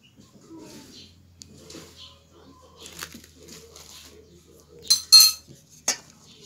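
Vegetable fritter batter of squash, carrots, moringa leaves, chives, garlic, onion and flour being mixed in a bowl, with scattered quiet scrapes and a few sharper utensil clinks against the bowl near the end.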